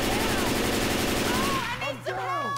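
Assault rifle gunfire in the video game Left 4 Dead 2, a dense burst of rapid automatic shots that stops abruptly, followed by game sound effects and voices talking.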